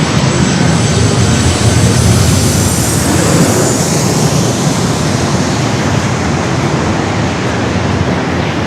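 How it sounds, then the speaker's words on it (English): A Southwest Boeing 737 passes low overhead on arrival at San Diego airport, a loud close jet roar that swells early and then eases slightly, with no talking. "Next arrival is Southwest Flight 4290 coming in from Sacramento. A 737 at 700,"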